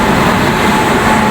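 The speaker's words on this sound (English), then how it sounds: "So finally our train has arrived at platform number 2." A loud, steady rumble of a train arriving at platform 2 rolls close by, broad and continuous with a faint metallic hum, no talking; a Bhopal–New Delhi train at Bhopal Junction.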